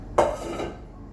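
A spoon or utensil clanks once against a metal pot as hot cooked rice for homemade dog food is stirred, followed by a brief soft scraping and settling, close and alone.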